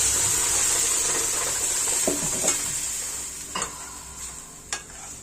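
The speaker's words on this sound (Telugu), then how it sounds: "పోపు మనకు బాగా ఫ్రై అయ్యాక ఇప్పుడు మిక్సీ పట్టుకున్న దోసకాయని వేసేసుకోవాలి" Ground ridge gourd goes into a sizzling tempering of dried red chillies and turmeric, a loud steady hiss that gradually fades as the mixture cools, with a few spoon scrapes and taps against the pan.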